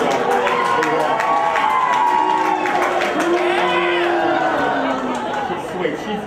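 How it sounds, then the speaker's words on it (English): A street-side crowd at a political campaign event claps and cheers, with chatter and voices mixed in over the noisy outdoor bustle. "give her a round of applause on the street side."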